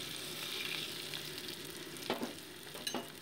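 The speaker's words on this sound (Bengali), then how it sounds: "মোটামুটি এটাকে ভালো করে ভেজে নিচ্ছি আমি মশলাটাকে।" Crushed ginger, mustard seeds and radhuni with bay leaf frying in mustard oil in a pan, a quiet, even sizzle throughout with a few sharp clinks and scrapes of stirring near the end, no talking.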